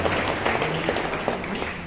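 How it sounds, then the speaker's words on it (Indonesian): Steady, moderately loud clapping from a crowd fills the whole stretch, applause for a woman, a primary school teacher, at a police event in Ambon. "Tepuk tangan dong buat Ibu."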